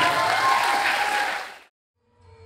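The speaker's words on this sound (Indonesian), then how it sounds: "Tepuk tangan semuanya." Students and guests at a high school anniversary ceremony break into loud, dense applause that carries for about a second and a half, then cuts off abruptly into silence before faint sound resumes.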